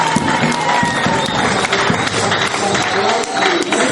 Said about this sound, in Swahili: Sio wote tujikaribishe kwa kupigiana makofi.